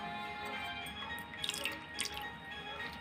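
Water trickles and drips into a ground coriander and green chili paste, a soft wet splashing with a few brighter drips midway, close and quiet with no talk.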